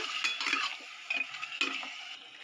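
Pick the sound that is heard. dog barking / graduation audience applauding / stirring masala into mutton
stirring masala into mutton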